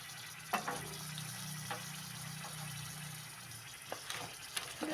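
Bitter gourd (spiny gourd) frying in a pan for a Telangana-style fry, a steady low sizzle with a few sharp scraping stirs of the spatula scattered through.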